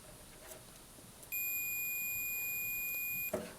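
A multimeter's continuity beep sounds while testing a dryer for a short circuit: a single steady, piercing electronic tone that holds for about two seconds, close and loud above a quiet room hiss, then cuts off sharply.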